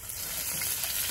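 Dried red chilies crackle and sizzle in hot oil in a home kitchen, a close, continuous spitting hiss with dense, rapid pops and no voices.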